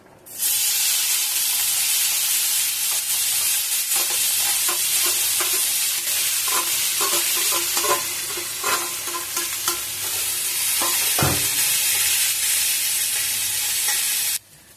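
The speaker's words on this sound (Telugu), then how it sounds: "ఆయిల్ వేడెక్కాక 3 సన్నగా కట్ చేసుకున్న ఉల్లిపాయ ముక్కలను వేసుకొని ఫ్రై చేసుకోవాలి" Thinly sliced onions hit hot oil and fry with a loud, constant hissing sizzle, punctuated by clattering stirs against the pan and no voices.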